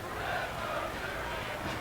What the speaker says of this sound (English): 72nd minute, scoreless game as the crowd chants for Patrick Duty, who will take this free kick.